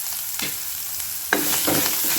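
Tomatoes sauté in an oil tempering for pithla as a spoon scrapes and stirs close by over a steady sizzle, in short uneven strokes with no voices.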